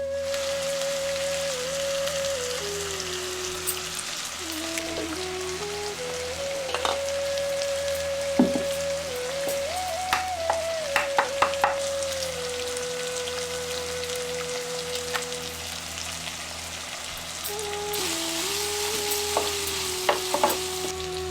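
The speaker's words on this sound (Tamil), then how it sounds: "இப்போ உப்பு சேர்த்து வெங்காயத்தை நல்லா வதங்க விட்டுட்டு" Onions with salt sauté in a pan for egg curry, a continuous close sizzle with occasional stirring scrapes and clinks, no talk over it.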